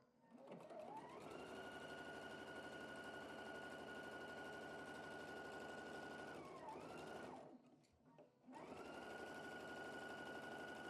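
Sewing machine running a long continuous seam across a cross seam in quilt pieces, a steady close mechanical whir that dips briefly near the end before resuming at full speed.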